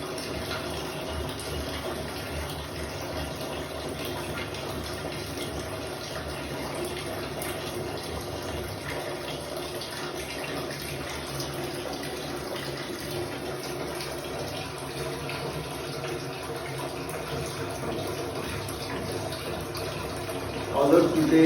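Water runs steadily from the tap of a Haier 15-litre geyser, a constant hiss and splash that holds evenly for about twenty seconds at close range.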